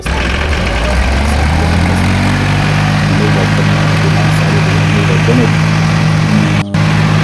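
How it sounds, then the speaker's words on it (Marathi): A heavy diesel tractor engine runs steadily in a farm field, a loud low droning rumble that stays constant, close by, with faint background activity. "ट्रॅक्टरवर बसलो ट्रॅक्टर चालू केला"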